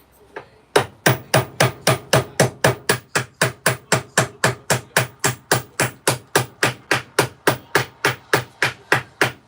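A hammer strikes repeatedly during kitchen work inside a converted bus, about thirty loud, close blows at a steady, even rhythm, with no talking.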